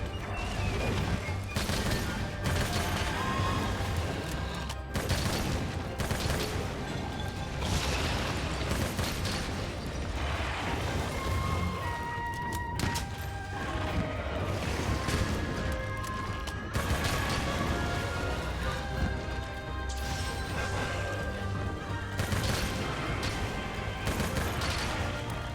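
A weapon strafe in Monster Hunter Rise produces a continuous stream of rapid shots, crashes and booms, dense and loud throughout, layered with game music and battle effects.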